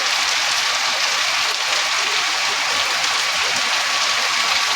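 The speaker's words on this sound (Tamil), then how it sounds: "தண்ணி ஃபுல்லாக மழை பெய்கிறது." Heavy rain pours steadily in Tenkasi district, Tamil Nadu, as a dense, even hiss with no pauses, loud and constant throughout.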